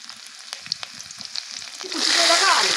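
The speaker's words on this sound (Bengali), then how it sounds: "এবার কুচি করে রাখা রসুনটা দিয়ে দেবো।" Chopped garlic drops into hot mustard oil seasoned with five-spice and a little sugar, light crackling ticks first, then a loud, steady sizzle swelling up close.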